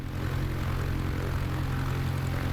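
An NX Cub propeller engine in MSFS 2024 runs at raised throttle, a steady loud droning buzz that holds evenly throughout, with no voices.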